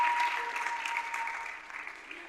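A studio audience claps steadily in dense, sustained applause that fades slightly toward the end, with a faint voice underneath.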